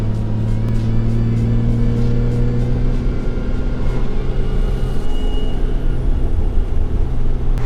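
A car with a Toyota 2JZ engine pulls hard in warm weather, its low steady engine drone and deep rumble filling the cabin loudly and continuously, building as it accelerates.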